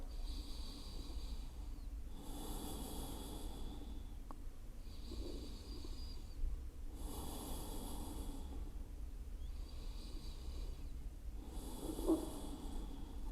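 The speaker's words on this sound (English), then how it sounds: "Keep your breath flowing, deep, long inhales and exhales." Deep, slow yoga breaths drawn through the nose, with long inhales and exhales alternating in a steady rhythm of roughly two-second phases, close, soft and breathy, with no talking.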